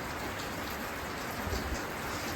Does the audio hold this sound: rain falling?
yes